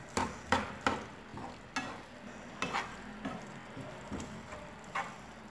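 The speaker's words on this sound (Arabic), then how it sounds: "وغادي نخلط مزيان هاد المكونات" A spoon stirs a lemon-juice marinade in a bowl for a Moroccan bastilla, giving a series of sharp clinks and scrapes at an uneven rhythm, close and fairly quiet, with no talking.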